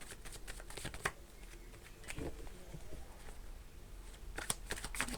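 Tarot cards shuffled by hand in a series of soft, crisp riffling bursts, with the densest flurries near the start and end and quieter rustling between.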